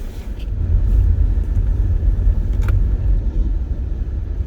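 A Rover 25 iXL with a 1.6 engine is driving, a steady low rumble of engine and road noise heard from inside the car on a Sunday drive in traffic, with no talk.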